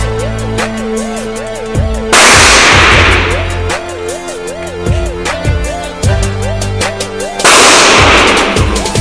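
At an indoor range, shots from Glock 17 and Glock 21 pistols crack out loudly at close range, two dominant blasts among repeated muffled thumps from neighbouring lanes, over a steady warbling electronic tone.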